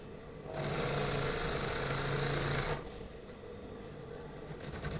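A sewing machine stitches a shirt collar in a single close, even burst of about two seconds of steady whirring needle action, then falls quiet.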